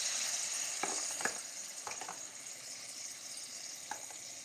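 A whisk beats cornmeal grits in a pot, a soft, faint scraping and sloshing with a few brief sharp taps against the pan, over a steady low sizzling hiss.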